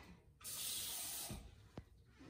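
Water pours from a cup into a glass for about a second, a bright hissing splash that stops abruptly, followed by a faint clink, in a quiet room.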